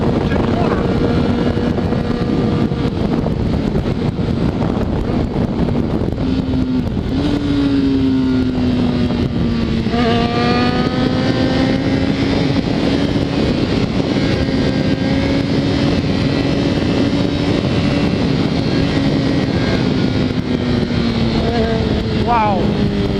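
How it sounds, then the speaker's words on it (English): A Honda CBR600RR with 6,900 miles rolls through a corner at speed, its engine droning steadily as the pitch shifts, under heavy wind rush with a rider talking over it. "now we're going to see how this bike can corner."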